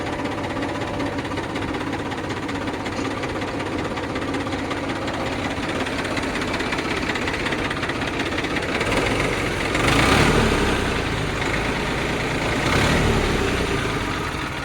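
A farm tractor's engine idles steadily and close, a continuous mid-pitched rumble that swells briefly louder twice toward the end, with no voices.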